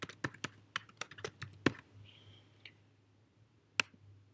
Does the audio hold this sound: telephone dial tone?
no